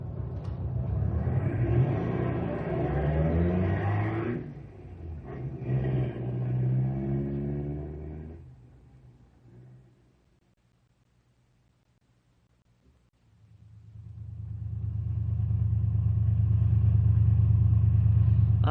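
Car engines rumble and rev in a radio drama effect, a deep motor rising and falling, dropping to near silence before a loud steady engine drone returns.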